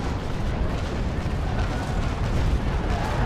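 A naval broadside in the sailing-ship game Naval Action erupts as a dense, rolling barrage of cannon booms that overlap into a continuous rumbling thunder, loud and unbroken.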